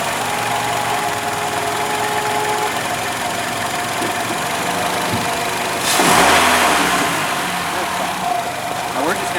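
2012 Nissan Rogue 2.5 S engine idling to warm up, a steady mid-pitched hum throughout with a brief louder whoosh of activity near the middle and speech over it.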